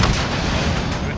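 Gunfire in the Modern Warfare campaign video game, a dense continuous loud barrage of shots and blasts filling the whole moment without pause.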